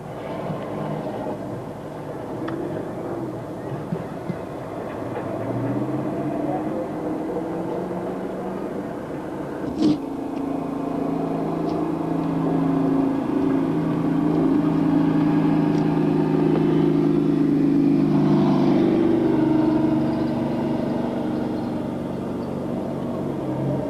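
Race car motors rev and rumble at a 1997 radio DJ racing event as cars warm their tires, a broad continuous engine drone swelling louder toward the end with a sharp burst near the middle.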